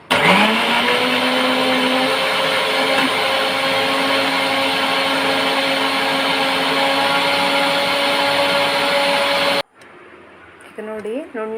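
A blender pureeing cooked, cooled tomato and carrot for soup, a loud steady motor whine that runs evenly, then stops abruptly near the end, leaving faint clatter and a brief voice.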